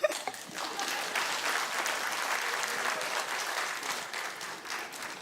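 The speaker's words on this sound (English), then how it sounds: "Claps." Audience at a mayoral candidate forum clapping steadily, a moderate, continuous wash of many hands that starts with a sharp onset and holds evenly before easing slightly at the end.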